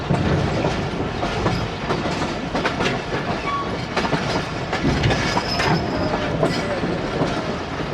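Pakistani passenger train carriages on an evening express run from Faisalabad to Lahore rumble and clatter loudly as they switch tracks leaving the yard, with continuous heavy thumping and clanking of wheels over points throughout.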